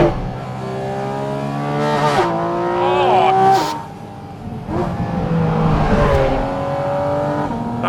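A 493 bhp Porsche Cayman sports car engine revs hard toward 9,000 rpm, loud rising howls with sharp gear shifts between pulls, close and dominant.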